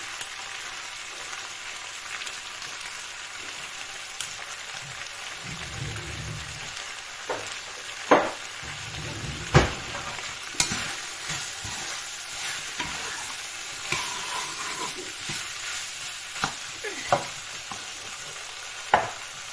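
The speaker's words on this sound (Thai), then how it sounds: "อย่าไปเติมน้ำนะผัดแห้งๆคั่วแห้งๆ" Glass noodles dry stir-fried in a pan with no water added: a steady close sizzle runs throughout, punctuated by scattered louder scrapes and knocks from the spatula, with no talk.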